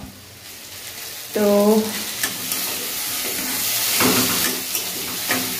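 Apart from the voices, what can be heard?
potatoes frying in a pan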